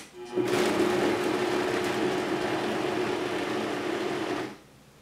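A kitchen blender runs steadily at its lowest speed, chopping a chunky salsa of tomatoes, onions and peppers with rosemary, a continuous close whirring hum lasting about four seconds before cutting off.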